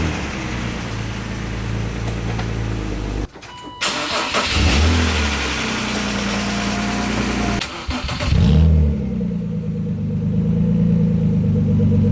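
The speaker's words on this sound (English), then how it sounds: "So I'm gonna go ahead and start it up, put it off the ramps" A car with an exhaust leak cranks and fires up, then idles and revs as it is driven off ramps, the engine loud and close throughout with a brief dropout as it starts.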